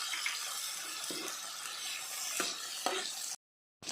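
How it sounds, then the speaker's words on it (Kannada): Chopped tomatoes fry in a pan for paneer kaju curry, giving a soft steady sizzle with a few light stirring taps before a brief cut to silence. "ಇದಕ್ಕೆ 2 ಸಣ್ಣದು ಹೆಚ್ಚಿಟ್ಕೊಂಡ ಟೊಮಟೊ ಹಾಕ್ಕೊಳ್ಳುವ, ಮತ್ತು ಫ್ರೈ ಮಾಡಿಕೊಳ್ಳುವ."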